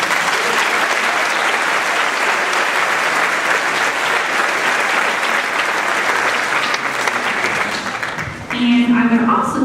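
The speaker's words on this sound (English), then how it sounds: "Please give them a round of applause." Sustained audience applause fills a school spring concert for a middle school concert band, a steady dense clatter of many hands that swells and holds before easing near the end.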